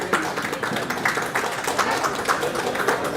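An audience at a poetry book launch applauds in honour of Suryabala Mishra. The clapping is steady, continuous and moderately loud, with individual claps standing out from the crowd.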